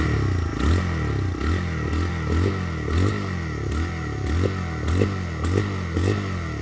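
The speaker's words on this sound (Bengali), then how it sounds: "এটা হচ্ছে বাইকের এক্সস্ট সাউন্ড।" Exhaust of a TVS Raider 125 motorcycle with two and a half years of use, heard up close as a steady thumping idle with repeated blips of revving rising and falling in a regular rhythm.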